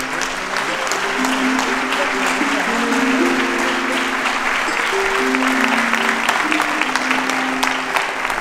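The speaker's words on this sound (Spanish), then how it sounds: "aplaudieron mucho" Sustained applause from a film audience at the end of a Chilean movie screening, a dense steady clatter of many hands lasting throughout, with faint murmurs beneath.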